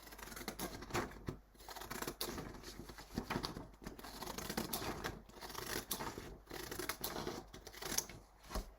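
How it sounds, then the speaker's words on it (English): Quiet, close snips of scissors cutting through paper, repeated in a loose rhythm with soft rustling between cuts. "I think I will cut along here first"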